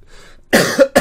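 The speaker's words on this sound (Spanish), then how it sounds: "Madre mía que me muero, vaya tos que tengo tú" A person coughs sharply at close range, one harsh cough followed quickly by a second shorter one.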